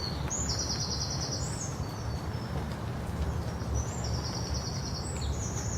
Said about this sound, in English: I'm going to leave you with birdsong ringing in your ears.